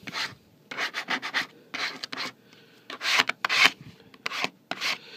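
A squeegee rubbed over a stand label, giving repeated short scraping strokes in quick bursts, close and fairly soft, with brief pauses between passes.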